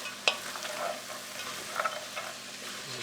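Soaked and rinsed red kidney beans are stirred into a soup pot for Hungarian bean soup, a soft wet scraping and shuffling with one sharp clink at the start, close and fairly quiet, no talking.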